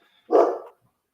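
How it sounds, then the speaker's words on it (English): A single loud, close dog bark, one short sharp burst alone in an otherwise quiet indoor space. "Apologies for the dog barking."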